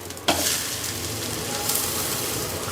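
Dosa batter hits a hot pan with a sudden bright sizzle that holds as a loud, continuous frying hiss for the rest of the moment.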